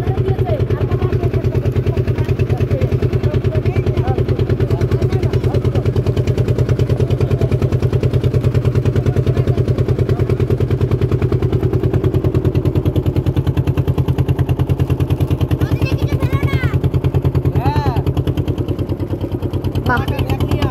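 A small boat's motor runs steadily on a river in the Sundarbans near Jharkhali, a loud, even, throbbing drone that never stops while people talk over it.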